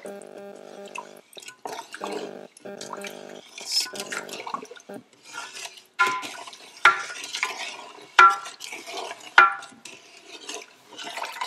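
A spoon works through a homemade buck jam mixture in a pot, stirring until it dissolves, giving intermittent close scrapes, sloshes and light clinks that come in uneven bursts with brief pauses.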